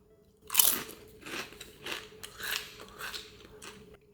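A truffle-flavoured potato chip topped with truffle hot sauce is bitten with a sharp crunch, followed by several seconds of close, loud crackly chewing with no one talking.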